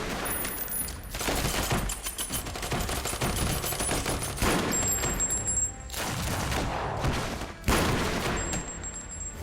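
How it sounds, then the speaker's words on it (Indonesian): A movie shootout roars with dense bursts of rapid gunfire, loud and sustained with brief pauses between volleys, and no voices. "Simbah masih cukup tangkas untuk baku tembak"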